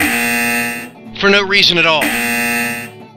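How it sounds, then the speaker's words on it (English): A loud electronic buzzer blares as a joke, a harsh sustained tone that cuts out briefly while someone speaks over a short gap, then resumes at full strength. "where's that buzzer now?"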